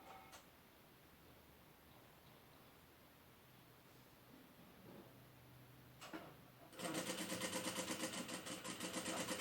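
A sewing machine stitching a cloth doll starts up loudly after a quiet stretch of faint room noise and a couple of soft knocks, then runs with a fast, rapidly pulsing mechanical chatter close by.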